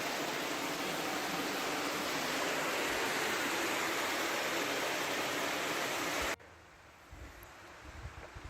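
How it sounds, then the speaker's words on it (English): Water rushing steadily in the Drakensberg mountains, a dense broad roar that cuts off abruptly to quieter outdoor ambience with some low wind-like rumble. "want to hear water running over there"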